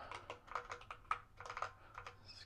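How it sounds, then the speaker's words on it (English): Quick bursts of keyboard typing, uneven clusters of keystrokes with short pauses between, close and fairly quiet. "Excuse my typing abilities here"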